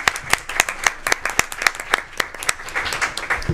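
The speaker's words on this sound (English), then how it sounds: "a quick round of applause for his 27 years of service" A small group claps together in a steady, fairly quick rhythm of sharp hand claps, nearby and moderately loud, without talking.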